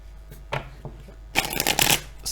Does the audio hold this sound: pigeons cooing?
no